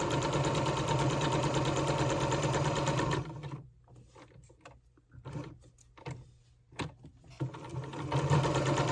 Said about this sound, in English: you can make one little stitch across the point of that and back down